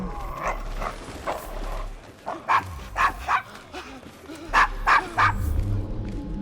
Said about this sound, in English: Is your dog quite all right?